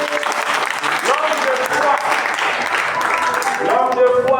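A congregation at a night prayer vigil bursts into sustained clapping and cheering, a dense close wash of applause mixed with shouted voices throughout.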